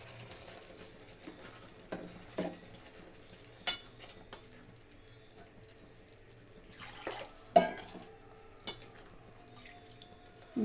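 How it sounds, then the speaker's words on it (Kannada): Water is poured into a pan of Shahi chicken gravy on the stove, a steady pouring and sizzling wash broken by several sharp clinks and stirring scrapes of a utensil against the pan, with no talking. "ಇದಕ್ಕೆ ನೀರು ತೊಳೆದು ಹಾಕ್ತಾ ಇದ್ದೀನಿ."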